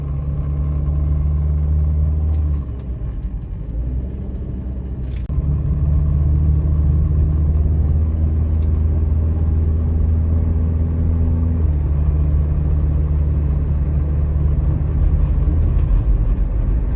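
Used Chevrolet Spark with 32,900 km on the clock driving on a test drive, a steady close low engine and road drone inside the cabin, briefly dipping then resuming, with no talking.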